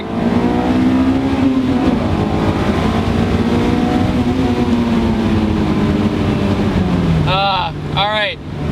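A Honda S2000 engine revs hard through rising harmonics into VTEC, loud and sustained, then drops off sharply near the end as brief bursts of voices break in.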